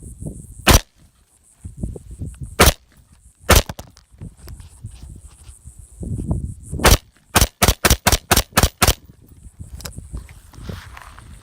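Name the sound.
PWS AR-15 rifle test firing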